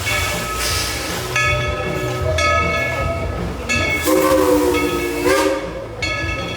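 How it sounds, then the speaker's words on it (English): Steam train at the Dollywood theme park running close by, with sustained whistle blasts and hissing steam over a rumbling background. "Train's still running."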